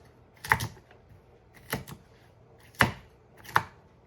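Carrots being chopped into bite-sized pieces on a board: four sharp, separate knife thuds spaced unevenly over a few seconds, close and fairly crisp, with quiet gaps between them.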